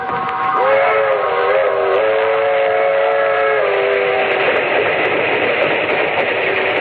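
A train called the Southeast Limited, in an Inner Sanctum Mysteries radio drama, rolls steadily along the rails while a long steam whistle sounds loud and near, its tone sliding and wavering over the continuous rumble, with no talking.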